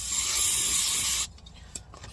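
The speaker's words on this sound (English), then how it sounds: "I'll grab my brake cleaner," Brake cleaner sprayed onto parts from a 1959 Ford F-100 brake job: a steady, loud aerosol hiss lasting just over a second, then stopping abruptly, followed by faint handling noises and a small clink.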